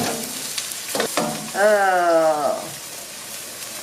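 Chopped shallot sautés in olive oil in a pan, a close crackling sizzle with stirring, interrupted by a brief spoken exclamation, then continuing softly.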